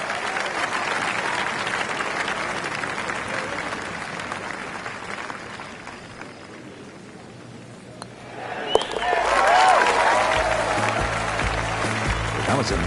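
Crowd applause and cheering rise on a golf course in a PGA Tour video game, a broad swell after a quieter stretch, with a commentator's voice over it.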